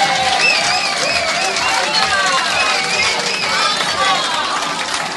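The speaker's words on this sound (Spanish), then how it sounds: "Un aplaudiment per ella, sisplau." An audience at a Cocodril Club evening applauds a woman with steady, full clapping, mixed with cheers and crowd noise, loud and close throughout.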